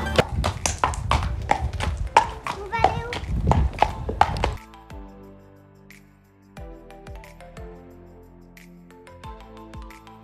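A horse's hooves clip-clop in a quick, close run of sharp strikes as the horse is led out of an equestrian stable toward the paddocks, then stop, leaving fainter sparse taps.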